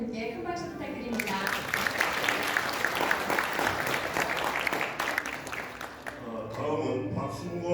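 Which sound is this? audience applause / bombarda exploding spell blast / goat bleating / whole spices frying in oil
audience applause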